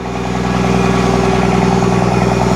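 A car engine idles loudly and steadily with a deep, rumbling straight-pipe exhaust note, no one talking.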